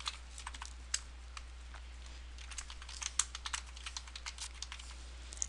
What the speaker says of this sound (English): So we just type in 1 forward slash and continue to follow the formatting.